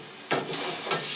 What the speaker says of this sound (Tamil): முடிஞ்சளவுக்கு எண்ணெயிலே வதக்கிடலாம்.